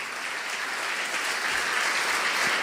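A church congregation applauds together during a sermon, a dense continuous wash of clapping at even loudness from start to finish.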